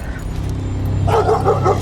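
Dogs bark loudly and close by in quick, repeated yaps and whining barks, over a low background rumble.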